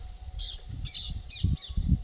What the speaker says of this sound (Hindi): चिड़िया चहचहाती हुई।